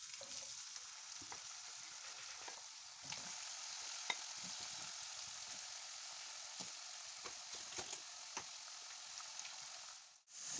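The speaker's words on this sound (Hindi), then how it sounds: "अब इसमें हम चिप्स डालेंगे।" Potato chips deep frying in a generous amount of hot oil, a steady dense crackling sizzle with scattered sharper pops, running alone and even for about ten seconds before cutting off abruptly.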